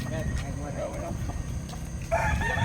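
Roosters crow repeatedly amid the crowd noise of a nighttime market in Barangay Lucsuhin, Alfonso, Cavite, where fighting cocks are sold; a loud close crow breaks out near the end over steady chatter and background talk.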